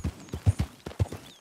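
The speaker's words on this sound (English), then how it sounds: "Oh look, there's another horse and carriage." Hooves of a horse pulling a carriage in the Red Dead Redemption 2 western game clop in a quick, uneven rhythm of about ten close, fairly loud hits.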